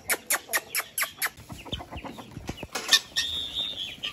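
Hens and a rooster in a small home mini zoo jump down and cluck, with a burst of rhythmic squawks and wing flaps followed by scattered clucks and scuffling close by.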